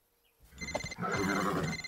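A telephone rings with a bright repeating electronic trill, starting after a brief near-silence and continuing loud and steady to the end, with no talk over it.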